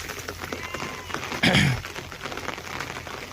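Rain falling on a pasture where sheep are kept, a steady patter of drops on wet ground with a brief louder splashing burst partway through.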